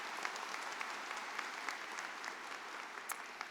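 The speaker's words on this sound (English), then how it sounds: "Let's give them a round of applause for supporting our school." Audience applause at a 2023 school graduation ceremony, honoring board members: a steady, even wash of many hands clapping at moderate distance, sustained without pause and with no voices over it.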